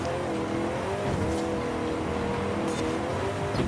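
Trucks race in Forza Horizon 5, engines droning loud and steady with shifting revving tones, a continuous close roar with faint tire noise.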